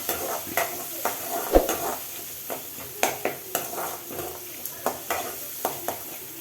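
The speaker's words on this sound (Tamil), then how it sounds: "பொடியாக நறுக்கி வச்ச பெரிய வெங்காயம் வெங்காயம் நல்லா வணங்கட்டும்" Finely chopped large onions sauté in a pan with curry leaves and dried chillies for a carrot stir-fry, a soft steady sizzle broken by repeated sharp clicks and scrapes of a spoon stirring against the pan.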